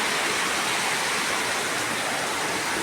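Strong wind ahead of an approaching typhoon roars without a break, a loud, dense broadband rush that fills the whole stretch with no pauses.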